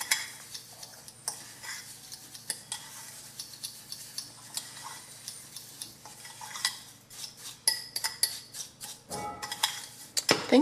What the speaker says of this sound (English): Make sure everything is nicely mixed up. I'm using a fork.